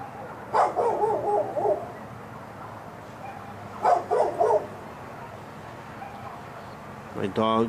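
A dog barks in short clustered bursts at a distance near Los Angeles, pausing between volleys, with a faint steady background hum and a sharper sound near the end.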